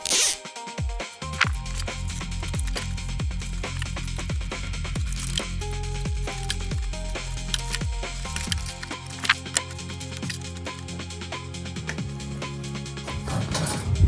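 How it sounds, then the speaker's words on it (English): Zip ties ratcheting tight around wiring while a flipper cooler is fitted to a pinball machine, a run of quick close zipping pulls repeating steadily over a hum of background noise, with no talking. "All right, let's zip tie."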